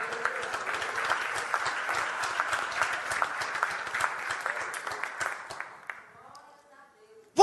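Sustained applause from a church congregation during a sermon, dense and steady for several seconds, then tapering off into near quiet with a brief sharp sound at the end.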